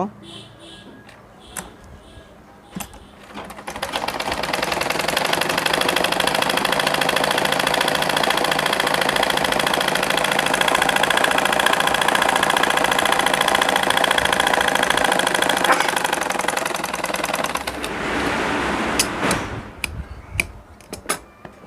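A sewing machine stitches the side of an Arabian jubba, a steady mechanical whirring hum running continuously for about fourteen seconds, with lighter clicks and handling before and after.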